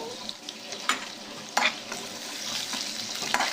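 Crushed garlic and red and green chillies sautéing in a pan for Pollachi-style coconut milk rasam, a steady low sizzle broken by a few sharp spoon scrapes and stirring clatters, close by with no talk.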